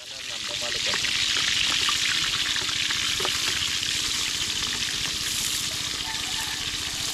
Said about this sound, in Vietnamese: ra chặt mà mấy cái ớt chiên. Chiên cho nó gần vừa, nó gần giòn.